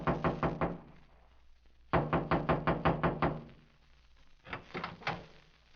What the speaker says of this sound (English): I walked through the clearing and knocked on the door.